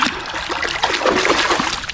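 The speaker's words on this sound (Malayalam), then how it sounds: "ഇതാ ഇവിടെ നിന്നാണ് കൈ കഴുകുന്നത്" Running water trickles and splashes steadily as hands are washed at an outdoor tap, a close, continuous patter with no talk.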